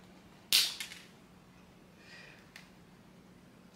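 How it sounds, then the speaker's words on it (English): An organic foot cream pump bottle spits out a single sharp, loud pop as it is pumped, followed by a faint hiss and a soft later squirt in an otherwise quiet room. "So you're just going to pump it till it starts to come out."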